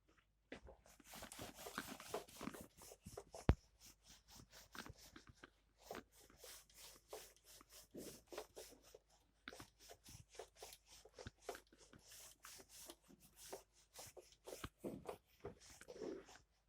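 Board eraser or duster rubbing out writing on a classroom board during a maths lecture, a long run of soft scratchy wiping strokes at close range with no talking.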